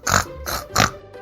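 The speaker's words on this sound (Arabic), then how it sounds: "pig," A pig grunts three times in quick, uneven succession, with short, breathy, snorting bursts, fairly close, and a faint fourth grunt trailing after.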